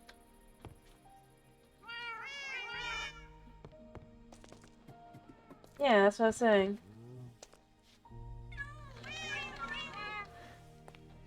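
Cats meow in modded Minecraft, three bursts of bright, wavering cries, the middle one loudest, with people talking throughout.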